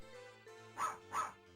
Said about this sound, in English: One of the chips in the cartridge for Puppy Love Story is dedicated to the dog bark samples